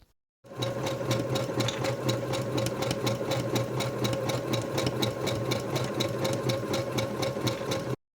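A sewing machine runs top stitching on fabric, starting from silence into a fast, steady mechanical whir with a rapid rhythmic clatter, close and continuous for about seven seconds before stopping abruptly.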